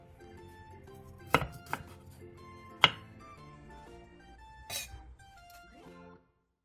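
A knife chops broccoli into bite-size pieces on a cutting board while Korean home-style side dishes are prepared, giving a few sharp, separate strikes over soft background music.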